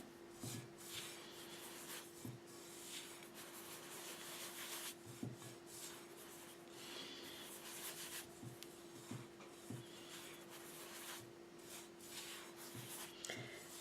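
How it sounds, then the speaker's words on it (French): Hands rubbing a tacos filling mixture between the palms, soft repeated rubbing strokes close by over a steady low hum, no voices. "Bien mélanger en frottant entre la paume de vos mains."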